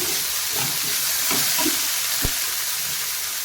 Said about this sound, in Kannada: ಈಗ ಇದನ್ನು ಸ್ಲೋ ಉರಿಯಲ್ಲಿ ಇಟ್ಟಿದ್ದೇನೆ ಈಗ ಮಿಕ್ಸ್ ಮಾಡ್ಕೊತೀನಿ